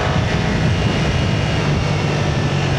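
Steady engine roar from a 2025 BMW F900R motorcycle under acceleration, heard from the rider's position as a continuous loud drone with wind noise and no talking.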